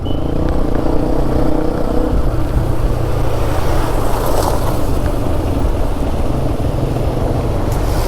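Water flowing at a remote off-road spot in the hills of Karnataka, a loud, steady rushing wash that continues without a break and without voices.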